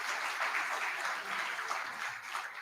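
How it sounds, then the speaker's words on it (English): A seated audience at an evening conversation event applauds steadily and loudly, dense continuous clapping with no speech over it. "A loud round of applause for Dr. Tharoor"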